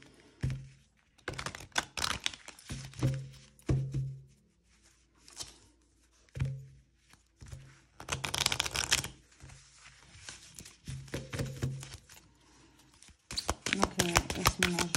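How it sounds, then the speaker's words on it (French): An oracle card deck is shuffled by hand in bursts of close, crisp riffling and slapping of cards, with quiet gaps between the bursts and someone speaking French between them. "on va se mélanger le jeu et on va se tirer une petite carte"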